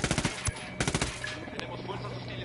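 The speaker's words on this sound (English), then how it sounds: "Oh, you're shooting them too early." Rapid automatic gunfire from a video game: a quick burst of closely spaced shots, then a second burst and scattered single cracks, fairly loud against background game noise.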